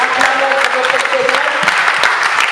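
A church congregation at an evangelical mission in La Chaux-de-Fonds applauds for Jesus: dense, steady clapping from many hands fills the room without a break, loud and close.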